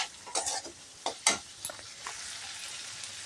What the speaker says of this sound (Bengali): এবার একটু কষিয়ে নেব, সামান্য একটু কষিয়ে নিচ্ছি।